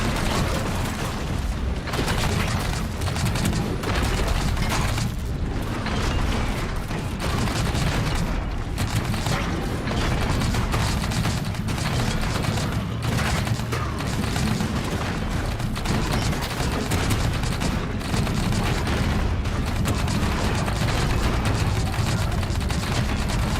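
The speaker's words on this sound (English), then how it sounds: "All those explosions are very concerning." Continuous explosions and gunfire rumble through a raid in the video game Scrap Mechanic, dense, loud and overlapping with no pauses.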